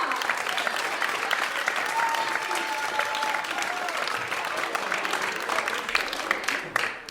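Applause from a school audience after a child actor's line in a primary-class play, a steady dense clatter of many hands that fills the whole stretch and fades slightly at the very end.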